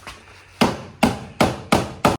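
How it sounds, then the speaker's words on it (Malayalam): Hammer blows levelling the side body panel of a Maruti Suzuki Zen, five loud, close, evenly spaced metallic strikes with a short ring after each, no talk. "ജസ്റ്റ് ഈ സൈഡ് ബോഡി അടിച്ച് ലെവൽ ചെയ്തുകൊണ്ടിരിക്കുകയാണ്"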